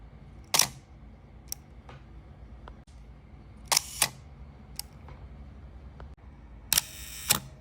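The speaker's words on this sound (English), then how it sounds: "This gives SLRs a distinctive sound." An Olympus OM-1 film SLR firing its mirror and shutter, a few sharp mechanical clacks, some in quick double snaps, with faint clicks between them over a quiet background.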